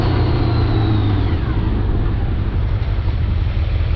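Honda CBR400RR NC29 sports motorcycle on the road, its engine droning steadily under heavy rushing wind buffeting the microphone, loud and continuous with a faint rising then falling whine.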